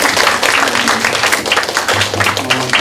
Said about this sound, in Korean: 우리 박수 한번 드릴까요?